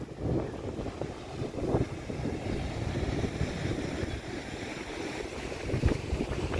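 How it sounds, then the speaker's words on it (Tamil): Sea waves roll in at Besant Nagar beach, a continuous surging wash with occasional louder breaks and heavy wind rumble on the microphone, with no voices. "கடல் அலை பாருங்கள்."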